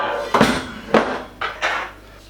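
A cast iron pot and a loaf tin are handled and set down for greasing before baking bread, giving four separate clunks, each a short knock with a brief ring.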